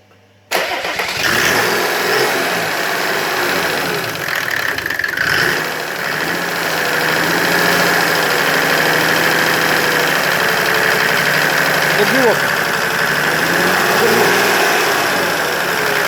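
A Mercedes OM606 turbo diesel engine with an electronic injection pump cranks briefly, catches and starts, then settles into a loud, steady diesel idle with a slight knocking rattle, running close and alone without talk.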